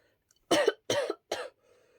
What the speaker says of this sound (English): he let out several dry coughs from the top of his lungs